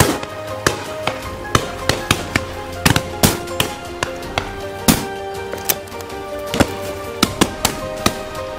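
Shotgun blasts ring out repeatedly during a driven pheasant shoot at Dyfi Falls, sharp loud reports at varied distances firing in a steady irregular barrage with overlapping echoes.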